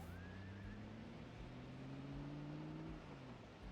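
A car engine hums steadily in the zombie survival game Project Zomboid, a low droning tone with a slight pitch rise while driving, continuous and moderately loud, with no talking.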